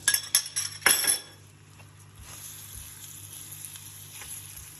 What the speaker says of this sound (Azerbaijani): Pesokumuz bu cür əridikdən sonra 50 gram yağ qoyuruq.